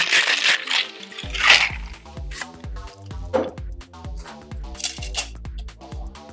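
An apple martini of vodka, sour apple and sweet and sour is shaken with ice in a mixing cup, giving a close, steady run of rattling clinks and knocks that carries on without talk.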